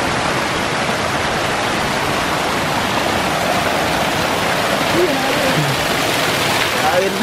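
A steady, dense rush of water falling from a high waterfall in a forest roars continuously nearby, with no breaks in the sound.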